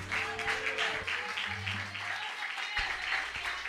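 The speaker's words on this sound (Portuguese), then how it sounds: "palmas ao Senhor Jesus, amém?" Church congregation clapping during a worship service, a brief wash of applause with voices and some tonal background sound underneath.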